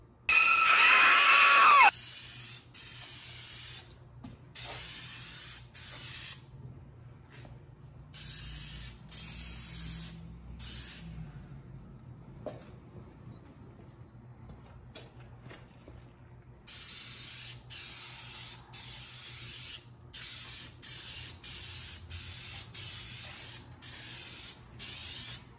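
Short hissing bursts of Plasti Dip aerosol coating being sprayed onto a Buell XB9SX motorcycle, a loud opening blast followed by a steady rhythm of repeated one- to two-second sprays with brief pauses between them.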